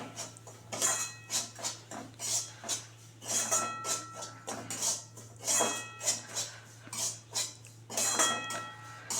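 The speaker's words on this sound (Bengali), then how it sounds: "এবারে দিয়ে দেবো হচ্ছে সুজিটা, দিয়ে একটু ভালো করে ভেজে নেব।" Semolina frying in ghee in a pan while making gulab jamun, with a spoon scraping and clinking against the pan in a steady repeated rhythm over a low constant hum.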